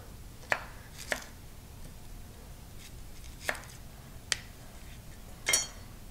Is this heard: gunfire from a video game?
no